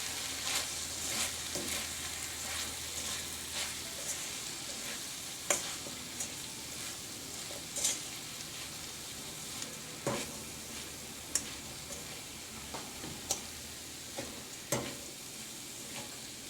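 Kanda batata poha is stirred in a frying pan over a steady close sizzle, with sharp scrapes and clicks of the spoon against the pan at irregular intervals throughout, and no talking.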